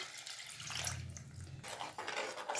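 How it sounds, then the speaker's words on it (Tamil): Tamarind water pours into a pan of spicy fish curry (karapodi meen kulambu), a short splashing liquid stream with a couple of bursts and faint clinks of the pan. "இப்போ புளி தண்ணி சேர்த்துக்கலாம்"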